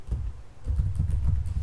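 Fingers type on a computer keyboard in quick clusters of soft, close keystrokes with a low thudding undertone and no speech.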